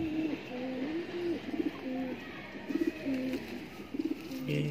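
Highflyer pigeons coo in repeated soft, rolling bursts of a few notes each, close by over a faint background hiss, with no speech.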